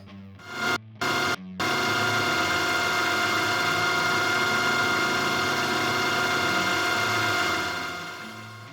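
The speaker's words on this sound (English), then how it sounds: "machine it in the mill with a carbide tipped cutter" A milling machine with a carbide-tipped cutter machines a taper, giving a loud, steady tonal whine and hum after a few brief start-stop bursts, then slowly fading near the end.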